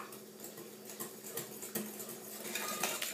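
Eggs and sweetener are beaten with a whisk in a bowl for a coconut flan, giving a soft, quick rhythmic ticking and tapping, faint and steady, with no voices.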